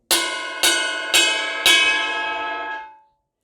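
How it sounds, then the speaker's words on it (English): The bell of a ride cymbal is struck four times at an even, unhurried pace, each strike a bright, close ringing ping that sustains and layers over the previous one before fading out cleanly. "The ride cymbal bell."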